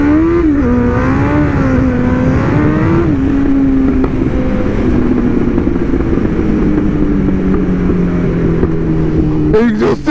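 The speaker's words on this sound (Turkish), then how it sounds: "Egzoz sesini duyuyorsunuz mu?" A Kawasaki ZX-6R motorcycle engine revs loud and close, its exhaust note rising and falling, then settling into a steady idle roar.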